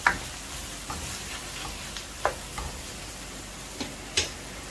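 Masala cooking in a pan for Peshawari chicken karahi, a soft continuous sizzle with periodic sharp clicks and taps of a spoon against the pan, close and fairly quiet.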